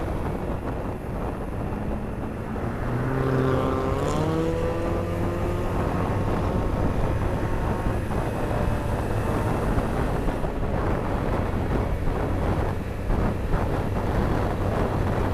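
Yamaha M-Slaz motorcycle engine rises in pitch through a gear, then drops and settles into a steady hum, heavily masked by rushing wind noise on the microphone.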